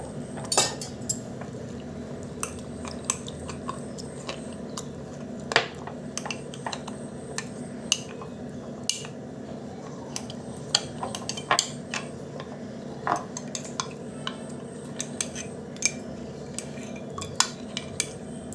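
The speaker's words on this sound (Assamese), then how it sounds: "এনেকুৱাকৈ গুলিব যাতে তাত গুটি গুটি হৈ নাথাকে।" Custard powder being stirred into cold water in a bowl, with a steady stream of quick, light clinks and scrapes of a spoon against the bowl, close and continuous.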